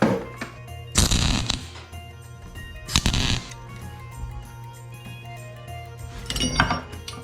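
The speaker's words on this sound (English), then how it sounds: "No, the washer hitting." A loose washer clinks and rattles against metal in short bursts while a broken bolt is worked out with a MIG welder nearby, three distinct clattering bursts with a steady low hum between them.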